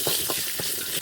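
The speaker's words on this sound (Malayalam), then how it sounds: "വെളിച്ചെണ്ണ ചേർത്ത് കൊടുത്തു. കടുക് ഇട്ട് കൊടുക്കാം. ഉഴുന്നുപരിപ്പ് ചേർത്ത് കൊടുക്കാം." Mustard seeds and urad dal sizzle and crackle in hot coconut oil, a dense, bright frying hiss with rhythmic stirring strokes, close and continuous.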